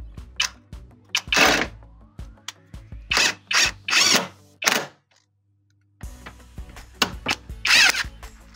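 Front seat bolts on a Perodua Bezza car being tightened with a hand tool, giving several close, loud bursts of ratcheting clicks separated by short pauses and a brief silence.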